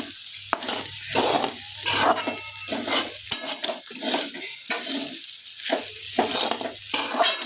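A peanut dish is stirred in a pan, with a spoon scraping in rhythmic bursts about once a second over a soft sizzle, close and clear, with a few brief pauses between strokes.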